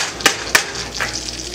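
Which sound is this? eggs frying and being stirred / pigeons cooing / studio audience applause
eggs frying and being stirred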